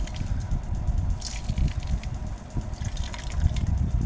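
Ground paste squeezed through cloth for a hair and skin preparation lets liquid gush and drip steadily, a wet, continuous trickle that stays close and moderately loud.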